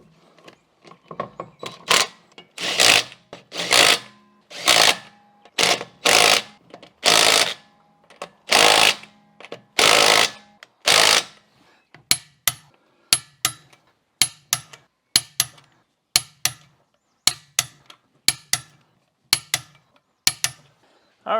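Lug nuts being run onto a 2011 Chevrolet Impala wheel with an impact tool, a long series of short rattling bursts in a steady rhythm, close and loud, growing shorter and sharper toward the end.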